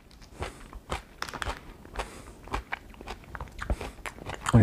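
Someone chews crunchy vegan coleslaw close to the mic with a run of crisp, uneven bites and crunches at a steady chewing pace and no talking.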